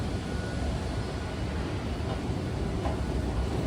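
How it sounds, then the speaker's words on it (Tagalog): An airport train runs with a steady, broad mechanical rumble and hiss, continuous and fairly loud, with no clear voices over it. "May tren. Yan yung train sa sasakyan namin."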